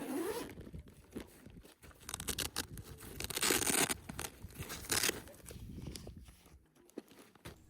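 A Fluke Networks duffel bag being unzipped, with a close, loud ripping zipper pull that surges in several bursts alongside rustling and crinkling of the bag's fabric, with no one talking.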